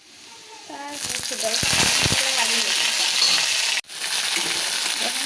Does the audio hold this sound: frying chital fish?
yes